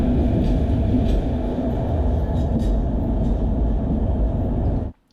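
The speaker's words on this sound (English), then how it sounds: "My train was parked on platform number 9 and Arakonam WAP4 will be powering our train." An Indian passenger train hauled by a WAP4 electric locomotive runs along, giving a continuous loud low rumble and rattle of wheels on track heard from inside, until it cuts off abruptly at the end.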